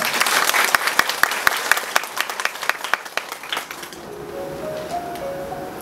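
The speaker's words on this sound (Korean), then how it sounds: "박수를 전하고" Audience applause at a book concert, a dense patter of clapping hands that fades out near the end into a quieter room with faint tones.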